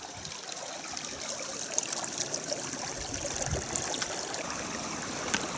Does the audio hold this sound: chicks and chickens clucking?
no